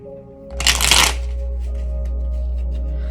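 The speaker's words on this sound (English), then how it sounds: "I'm gonna get a new deck. Quick little shuffle." A quick riffle of playing cards, a short crisp burst of fluttering snaps, followed by a low steady hum.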